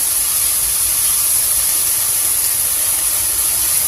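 Tomatoes sauté in a pan with turmeric and salt for cabbage sambar, giving a loud, steady, unbroken sizzling hiss close up, with no talking.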